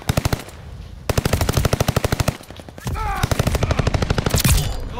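A Welgun SMG fires in Call of Duty Vanguard, loud close automatic bursts with evenly spaced rapid shots, a brief pause, then more sustained fire with extra game noise layered in.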